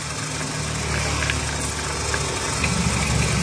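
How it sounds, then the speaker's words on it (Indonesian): Engine of a used car idling with the hood open, a loud, steady low rumble with a constant mechanical hum and faint ticking, heard close up. "Ini mesin hidup ya."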